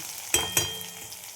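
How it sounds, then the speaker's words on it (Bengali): Thinly sliced potatoes drop into hot oil seasoned with black cumin seeds, giving two quick sizzling bursts that settle into a soft, steady frying crackle, close and fairly quiet. "আলুগুলো ভেজে নেব।"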